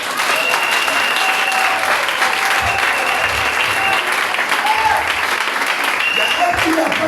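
An audience applauds continuously at a French-speaking gathering, the clapping dense and steady close by, with shouting and voices rising through it.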